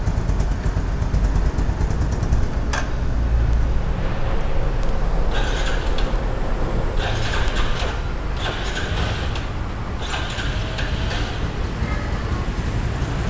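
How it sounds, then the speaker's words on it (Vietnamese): A used 2013 motorcycle engine is started and left running at a shop, giving a loud, continuous rumble with a sharp click early on and brief swells in revving. "Để mình nổ máy cho anh em thử xem thử cái ha."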